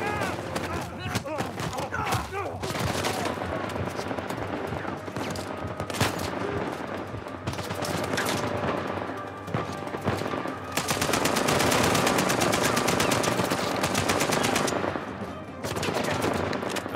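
Gunfire in the video game Uncharted: A Thief's End, dense rapid bursts of automatic shots and explosions running almost continuously, with a voice talking over parts of it.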